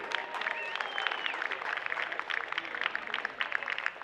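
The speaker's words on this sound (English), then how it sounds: "Please give our umpires a terrific round of applause, too." A crowd at an American Legion state baseball championship in Alaska claps for the umpires, scattered hand claps rattling at moderate distance while whistles and cheers rise briefly over them.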